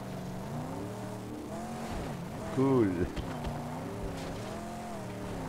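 Armored buggy driving in the Mad Max video game: a continuous engine drone that shifts pitch as the car revs and slides, rising to a brief louder burst midway, while a voice speaks a word over it.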